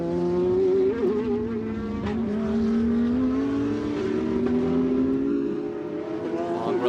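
GT America race cars roar around Circuit of the Americas, one engine howling loud and close with rising and falling revs as it works through gears, while a commentator talks faintly underneath.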